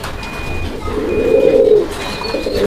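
Pigeons in a pet-market pen cooing close by, a loud throaty warbling coo swelling in the middle, with faint high whistling tones and background hum around it.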